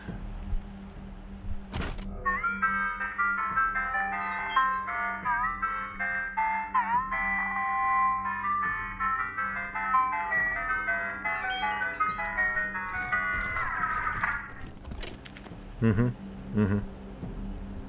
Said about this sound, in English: Alaska surprise jingle. A recording of some kind of mysterious pre-deluge ritual.